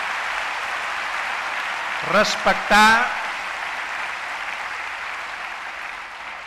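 Audience applause at a political conference, a broad steady wash of clapping filling the hall throughout, with a voice speaking briefly over it midway.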